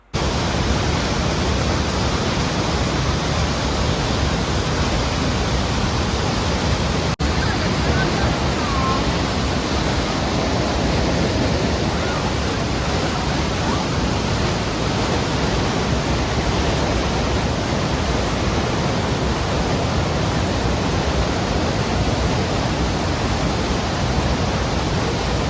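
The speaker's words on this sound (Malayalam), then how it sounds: "തൊട്ടടുത്ത് നിന്ന് നമുക്ക് ഈ വെള്ളച്ചാട്ടം കാണാൻ പറ്റും." Rhine Falls in Switzerland, Europe's largest waterfall, roars in a steady, loud, dense wash of falling water heard from close by, unbroken for the whole stretch.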